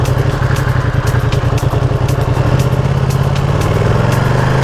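A 2020 Ducati Panigale V2 engine in race mode runs close by with a loud, rapid, pulsing throb that holds steady, then shifts slightly in pitch toward the end; no talking.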